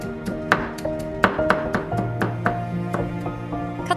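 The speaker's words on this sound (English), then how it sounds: "Cut the rest into bite-sized pieces for a juicy finish." A knife chops pineapple into bite-sized pieces on a board, a quick run of sharp, near thunks in uneven rhythm, with soft background music underneath.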